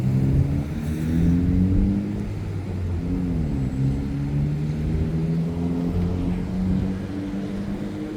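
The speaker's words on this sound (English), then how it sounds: "So traffic's not too bad right here." Road traffic on a street beside a vacant lot: a steady engine drone with tonal hum shifts in pitch as cars pass nearby, continuous and fairly loud with no talking.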